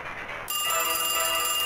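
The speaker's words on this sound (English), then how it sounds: "The phone. Don't answer." A telephone starts ringing in a horror video game, a sudden loud electronic trill with a steady, buzzy ring that carries on continuously after a quieter moment of background noise.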